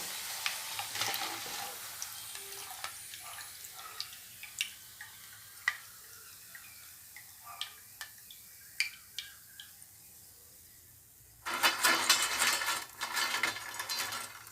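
Millet ribbon pakoda dough frying: sizzle crackles steadily with scattered sharp pops and ticks, then a louder burst of hissing bubbling near the end; no talking.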